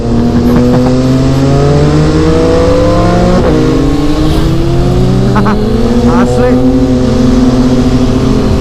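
A loud three-cylinder sport motorcycle engine revving hard with rising and falling pitch, steady throughout, with brief speech underneath.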